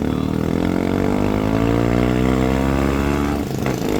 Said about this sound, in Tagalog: Man, lakas ng motor ni Utol Pakto ah.